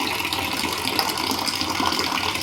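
Water steadily fills a clay pot meant for cool drinking water, a continuous close rushing pour that holds the same level from start to end with no talking.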